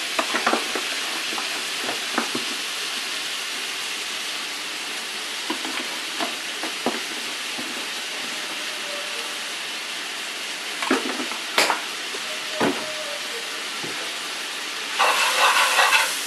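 Ground beef sizzling in a pan with a couple of tablespoons of flour stirred in for cottage pie, a steady frying hiss with occasional spatula scrapes and clinks, louder toward the end.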